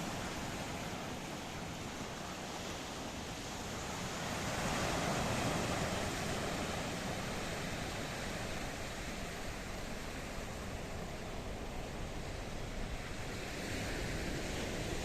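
Mediterranean Sea waves at Paphos, a steady broad wash of surf mixed with wind buffeting the microphone, loud and continuous throughout, no voices.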